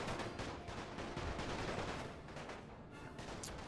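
Musket and rifle volleys from massed units in a Napoleon Total War battle, a dense continuous crackle of distant gunfire throughout with no talking.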